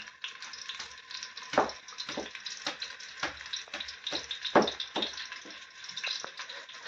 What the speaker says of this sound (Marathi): कांदा आणि कढीपत्ता आत टाकलेला